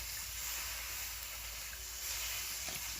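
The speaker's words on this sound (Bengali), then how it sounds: "কড়াইতে লেগে যাচ্ছে, আর আমি একটু জল দিয়ে দিই উপর থেকে" Water poured from above into hot spice masala frying in a kadai, giving a steady, loud hiss and sizzle that carries on without pause.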